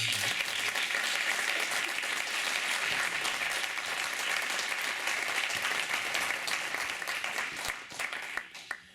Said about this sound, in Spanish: un aplauso bajo la mesa